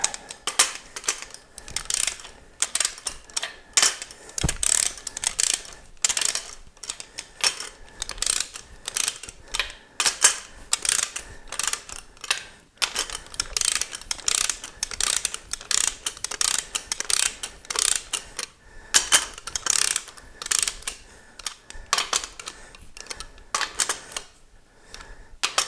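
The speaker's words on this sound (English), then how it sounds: "Now we just torque them down. Let's get them all snugged up." Rapid ratchet clicking from a wrench snugging bolts on an Olds 455 engine build, in repeated bursts of sharp mechanical ticks with brief pauses between strokes, close and clear throughout.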